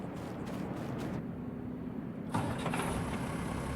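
A vehicle engine starts in the Farming Simulator 22 game, with an exhaust flap on the tractor, rising from a steady low rumble to a sudden louder surge about two seconds in, then settling into a continuous near idle.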